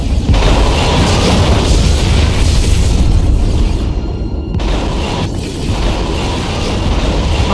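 A Romulan ship blowing up in the Star Trek Legacy space game, a loud sustained roaring explosion rumbling for several seconds, easing briefly near the middle before the rumble continues.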